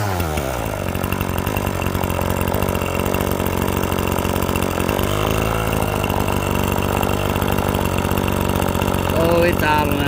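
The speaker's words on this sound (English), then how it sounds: "We're going to start it up and check the idle on this trimmer." A string trimmer's small two-stroke engine idles steadily at about 2,700 RPM, a loud, continuous buzzing drone close by, holding an even rhythm throughout, with a brief rise in pitch near the end.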